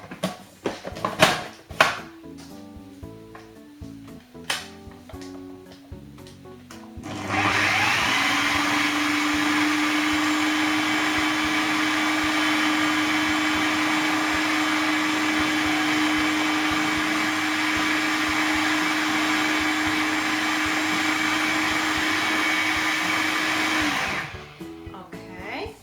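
After some kitchen clatter and handling noises, an electric mixer beats baking ingredients with butter, giving a loud, continuous high whir with a steady tone that runs for about sixteen seconds before stopping.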